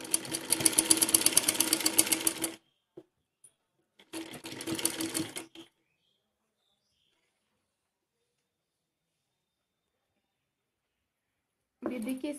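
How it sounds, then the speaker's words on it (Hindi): A sewing machine stitches piping onto a fancy top in two clear bursts of rapid, rhythmic whirring separated by silence, close and prominent, with a short final burst near the end. "हम ऐसे ही सिल लेंगे।"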